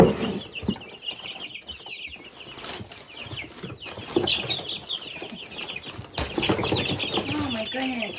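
Barred Rock mix chickens clucking and calling around a coop, with scattered soft clucks and wing flaps close by while a person talks over them.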